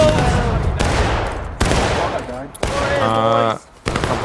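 Rifle volleys ring out in the Civil War battle game War of Rights, several loud, sharp massed discharges, each followed by a long rolling echo, close and dominant.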